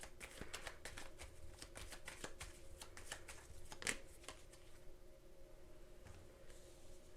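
Tarot cards are shuffled by hand in a steady, rapid riffling patter of soft papery flicks, close and quiet, that fades out near the end with no voice over it.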